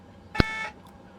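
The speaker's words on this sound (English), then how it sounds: "if you press that button it will key the microphone, you'll hear the buzzer" In an ATR 42/72 flight simulator cockpit, keying the microphone sets off the ground crew call buzzer: one short, bright electronic buzz lasting about a third of a second, followed by quiet.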